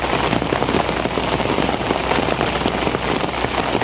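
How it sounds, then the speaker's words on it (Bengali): Heavy rain falling all around, a dense, constant patter and wash of drops on surfaces, loud and close with no talk. "দেখবেন চারই কিনার দিয়ে বৃষ্টি"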